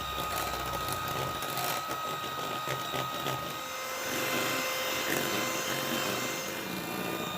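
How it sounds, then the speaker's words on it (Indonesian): An electric mixer whirs steadily while beating egg yolks with powdered sugar and liquid vanilla into a thick batter for lapis Filipin, a close, continuous motor drone whose pitch shifts slightly. "ini kuning telurnya kita kocok sampai kental dan juga mengembangnya"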